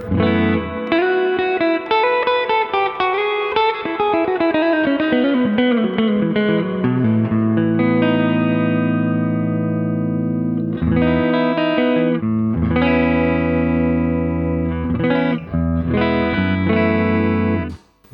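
An electric guitar plays through a Fender Hot Rod Deluxe IV amp with reverb, giving loud, slightly driven chords and picked notes that ring out and decay into a reverberant tail.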